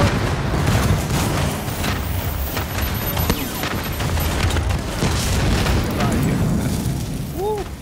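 Hostile vehicle blowing up in the game Incursions, heard as a dense rumbling boom and crackling blasts that run through the clip amid chaotic battle noise, with voices in the background.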